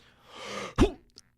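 A voice imitates a nervous single cough: a soft breathy exhale, then one short sharp cough burst and a small trailing catch.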